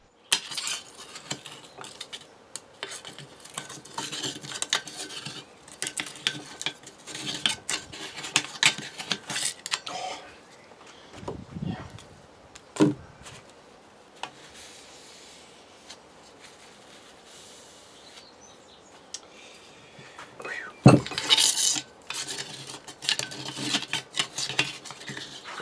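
Angle iron scrapes packed dirt out of the tube of a Heuer vise, a run of gritty metallic scratches and clinks in uneven bursts with a few sharper knocks and quieter pauses between.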